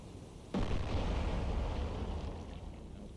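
A missile strikes an enemy Moskva-class anti-submarine ship in the Cold Waters naval warfare game, producing a sudden loud explosive boom that rolls into a long, rumbling roar and slowly fades.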